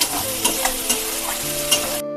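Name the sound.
masala spices frying in oil while stirred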